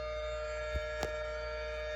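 A Kentucky EAS emergency alert alarm tone plays as a steady, buzzing multi-tone drone with two brief clicks partway through, fairly faint and with no talking.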